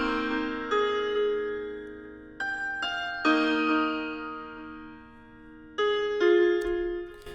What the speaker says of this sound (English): Now, this is my piano that I got from the XV5080,